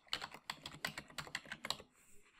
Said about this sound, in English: we can just click on each item and type in the same value